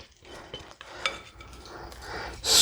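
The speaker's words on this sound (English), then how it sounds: "So then we want to give our potatoes a good stir." Potatoes being stirred and scraped in a slow cooker crock pot make close, uneven scraping and rubbing sounds, with a few knocks of the utensil against the pot and a louder scrape at the end.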